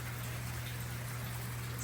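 Rain falls steadily during an unexpected storm, a dense, even hiss of drops on outdoor surfaces with a low constant hum underneath.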